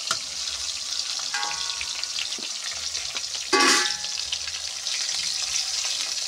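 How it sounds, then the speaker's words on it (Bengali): Pointed gourd (potol) pieces sizzle steadily in hot oil as they fry until reddish, a close, continuous crackle with a brief louder burst of sputtering as they are stirred midway. "লাল লাল করে ভেজে নিচ্ছি।"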